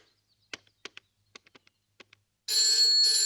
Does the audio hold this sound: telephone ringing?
yes